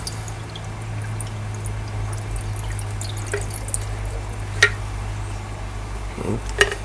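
Stale, smelly water-like condensate drains from the fuel tank of a STIHL 180 chainsaw after two years idle, giving a faint trickle with a few sharper drips over a steady low background hum.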